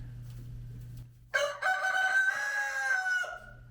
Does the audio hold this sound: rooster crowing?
yes